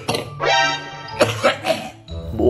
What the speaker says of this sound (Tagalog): Nakakaya pag ganyan yung tunog ng ubo mo sa classroom